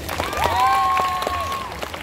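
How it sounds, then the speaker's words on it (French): Brief crowd applause at a Japan Expo cosplay show rises and falls over a couple of seconds, with a sustained tonal whistle or cheer above the clapping. "Allez, un applaudissement, s'il vous plaît."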